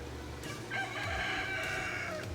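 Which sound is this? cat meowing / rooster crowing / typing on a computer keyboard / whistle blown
rooster crowing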